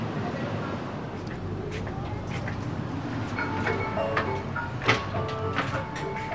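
The Gunungjati passenger train rumbles into Haurgeulis station with a low steady drone and a few light metallic clanks, while a person talks nearby over the noise.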